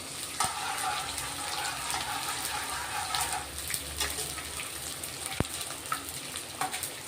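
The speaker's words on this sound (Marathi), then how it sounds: "डिंक तळून घेतोय आपण आता तूप गरम झालेलं आहे" Edible gum frying in hot ghee for winter laddoos, a soft continuous sizzle and bubbling with a few faint clicks, fairly quiet and without talk.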